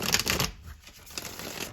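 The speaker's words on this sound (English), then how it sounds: "I'm going to give these cards one more shuffle" Tarot cards shuffled by hand: a dense burst of papery riffling for about half a second, then softer scattered card rustles, close up with no talking.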